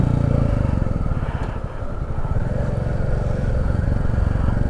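Motorcycle riding along a hill road in Jharkhand on a clear day, its engine a steady close drone with wind rumble throughout, dipping slightly midway and no talking.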